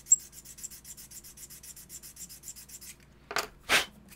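A flat sanding block rubbed back and forth on a small model part, giving a quick series of soft, even scratchy strokes close up, then a pause and two louder, longer rasping passes at the end.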